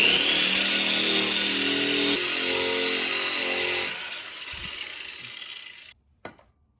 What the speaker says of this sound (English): I'm going to be using this this drum stripper, and it does a good job of stripping material without creating a lot of dust.